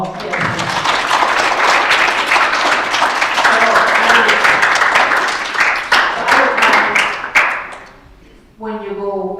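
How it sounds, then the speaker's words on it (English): School audience at an intermediate school assembly breaking into loud sustained applause for several seconds, with a voice speaking as the clapping dies out. "please give me a Round of applause"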